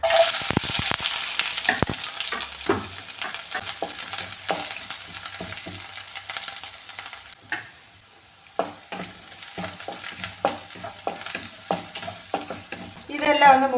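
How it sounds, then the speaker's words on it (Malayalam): Shallots and dried red chillies frying in hot coconut oil with mustard seeds already popped, a steady close sizzle broken by frequent scraping stir strokes of a spoon against the pan. "ഇനി ചെറിയുള്ളിയും വറ്റൽമുളകും കൂടി ഇട്ട് കൊടുക്കാമേ."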